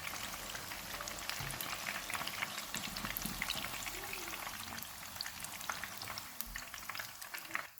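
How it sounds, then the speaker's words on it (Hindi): Fish frying in a pan, a faint, dense, crackling sizzle that continues steadily throughout, with occasional low scraping or shifting sounds. "फ़िश फ्राई हो गई है, इसको निकाल लेते हैं।"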